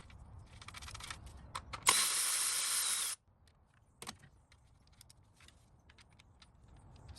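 A Milwaukee ratchet spins a 10mm bolt on a Toyota Tundra 5.7L V8 during secondary air injection valve replacement, giving a loud continuous buzzing burst of about a second amid scattered clinks of tools and metal parts.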